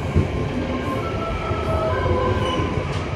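An Indonesian KA Logawa economy passenger train running fast between Pasuruan and Bangil, with a steady low roar, faint wheel squeal and rattling carriage noise throughout, close and continuous.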